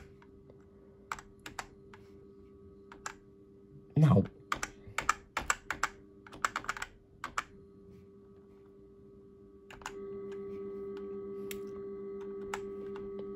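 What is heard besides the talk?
repeated clicking on a computer button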